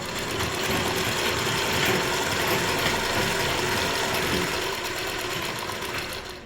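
A sewing machine stitches a fall onto a saree, giving a steady, fast mechanical whirring and rattling hum from close by that runs without pause, easing slightly toward the end.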